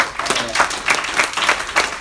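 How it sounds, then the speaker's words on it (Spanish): Worshippers at a church service clap together in quick rhythmic bursts, several claps per second merging into lively, fairly loud applause with a roomy crowd feel. "Denle fuerte ese aplauso al Señor"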